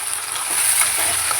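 Cut eggplant and yam sautéing in a pan for kara kuzhambu, a short, dense, continuous sizzle heard up close with no voices.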